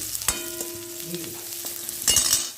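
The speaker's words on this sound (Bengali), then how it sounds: "পেঁয়াজ ভাজা করছি।" Soft crackling sizzle of onions frying in a pan, with occasional stirring scrapes and a brief louder burst near the end.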